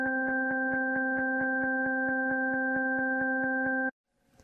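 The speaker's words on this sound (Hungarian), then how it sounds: "a bal fülemben megszólaló magas hang váltakozott a jobb fülemben megszólaló mély hanggal" Tones for an octave illusion, switching quickly between high and low in a steady, rapid rhythm, sound clear and alone, then stop abruptly.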